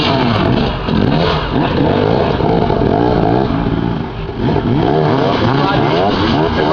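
Two-stroke motocross bikes, a 300 cc Husaberg and a 250 cc KTM, race around a dirt track, their engines buzzing and revving hard in a loud, continuous, rising and falling snarl.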